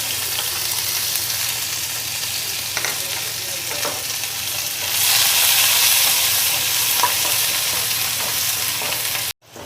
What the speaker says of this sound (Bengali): ছোট একটা পেঁয়াজ আমি কুচিয়ে নিয়েছি। এটাকে একটু ভেজে নেব।